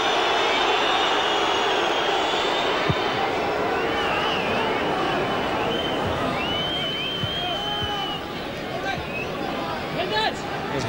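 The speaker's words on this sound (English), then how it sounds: "Crowd unhappy that Oakes is taking so long without getting this ball forward." A football crowd at Charlton Athletic against Aston Villa in 1998 grumbles and jeers at slow play, a steady broad roar of many voices with some whistling throughout, under commentary.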